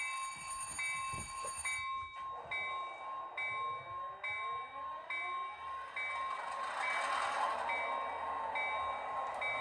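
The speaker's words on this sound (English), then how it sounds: "Let's run some trains." A DCC model train runs steadily with a whirring motor, joined by repeated electronic beeps and a rising whine, no voices.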